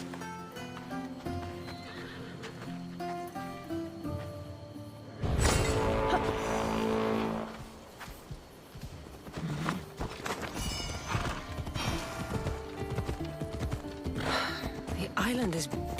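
Horse ridden in Assassin's Creed Origins: steady clip-clop of hooves and a whinny rise over game music, with characters speaking along the way and a sudden loud swell partway through.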